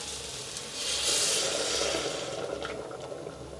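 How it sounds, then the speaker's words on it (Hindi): Hot water pours steadily from a glass into a pot for vegetable masala khichdi, a continuous close splashing stream with no talk. "तो उस हिसाब से मैं यहाँ पर 4 गिलास पानी डाल रही हूँ।"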